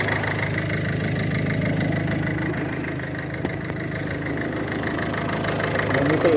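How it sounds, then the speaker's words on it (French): A Peugeot 5008 1.6 HDi 110 hp diesel engine idles steadily after an oil change, a close, even low rumble with a slight rhythmic knock, with no one speaking. "Le moteur tourne bien"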